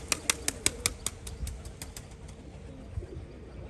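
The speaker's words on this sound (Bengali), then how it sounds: "ক্যাপ ফোটার মতো পুরো আওয়াজ হচ্ছে।" Rajshahi pigeons in display flight clapping their wings, a series of sharp cracking claps in quick succession near the start that fade into softer flapping, with no speech.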